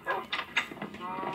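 During Minecraft play, a person gives a few quick nasal snorts imitating a pig. The voice makes short grunting bursts close to the microphone at a moderate level.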